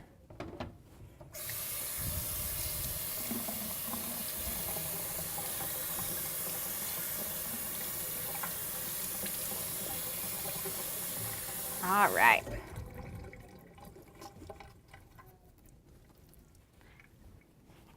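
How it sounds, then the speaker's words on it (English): Cold tap water runs steadily into a kitchen sink as produce is rinsed, a broad continuous hiss lasting about ten seconds before it cuts off, with a brief splashy surge near the end and a short spoken remark. "we're just going to run these under some cold water and give those a rinse"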